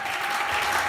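Congregation applauding in a French-speaking church service, a dense steady wash of clapping hands sustained throughout at even loudness, with no voices rising above it.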